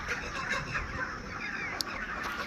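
A flock of 43-day-old broiler chickens in a poultry farm shed clucks and chatters continuously, many birds overlapping close by without a break.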